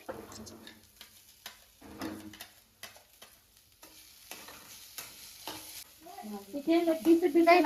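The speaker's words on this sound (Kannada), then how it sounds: "ಇದು ಮಿಕ್ಸ್ ಮಾಡ್ಬೇಕು ನೋಡ್ರಿ" Grated coconut filling being mixed in a pan, heard as soft intermittent scraping strokes that grow busier and louder toward the end.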